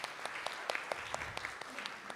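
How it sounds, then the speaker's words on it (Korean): Audience applause at a breakfast talk session, a short burst of scattered clapping from a modest crowd, fairly quiet and room-toned, lasting about two seconds. "이때 박수 한번 주셔야 되는 거 아닙니까?"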